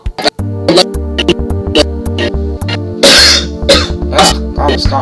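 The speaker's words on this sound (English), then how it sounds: "I was coughing." Several harsh coughs and throat-clearing bursts from a person playing Final Fantasy Tactics Advance, set over a looping game music bed, loud and close.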